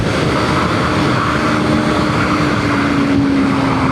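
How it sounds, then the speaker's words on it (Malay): A Kawasaki Ninja 250 ABS engine drones steadily while riding on a city road, heard as a loud, constant roar mixed with rushing wind and a faint rising tone late on. "Senang-senang je aku sesal motor ni."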